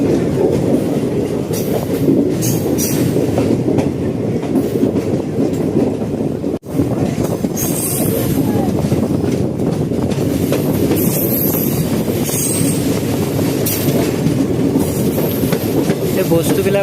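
A train on the Ledo to Guwahati route rolls steadily past roadside shops and a market, with a continuous close rumble and rattle of wagons, broken by one brief jolt midway.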